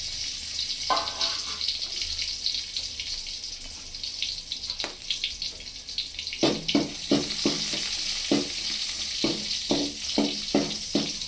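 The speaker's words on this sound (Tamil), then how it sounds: "அடுத்து அந்த வெங்காயத்தை கொஞ்சம் கோல்டன் நிறமாக நல்லா வறுத்துக்கணும்" Onions frying to golden in a pan for a bachelor-style okra kuzhambu, a continuous sizzling hiss with irregular metallic scrapes and taps of a ladle stirring, growing more frequent toward the end.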